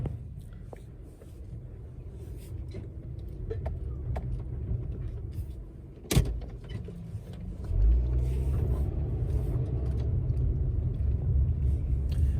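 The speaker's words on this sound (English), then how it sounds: "them brake pads sound terrible" A car with worn brake pads rumbles along at low speed with steady road noise, a sharp high brake squeal cutting through midway before the engine swells louder.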